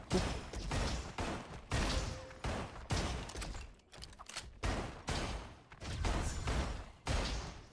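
Rapid bursts of weapon gunfire in the robot shooter game Roboquest, loud and continuous in clustered volleys with brief gaps, with no talking.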